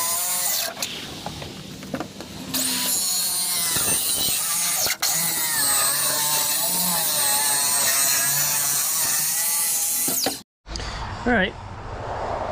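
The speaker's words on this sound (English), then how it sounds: "just using 1/4 inch birch plywood, and I'm going to cut them out" A power saw cuts through 1/4 inch birch plywood in a van build workshop, a loud continuous whining buzz with shifting pitch that cuts off abruptly, followed by brief handling noise.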